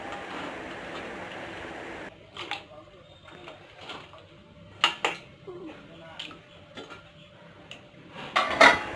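A lid is set onto a pot of boiling meat, with a few sharp metal clanks and rattles after an early hiss stops, and a voice talking at times between the knocks.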